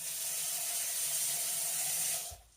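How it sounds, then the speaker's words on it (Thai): Water poured into a cooking pot while making a mushroom gravy, a steady close rushing pour with a hissing, splashy texture that runs for about two seconds and then stops abruptly. "หลังจากนั้นใส่น้ำนะคะ"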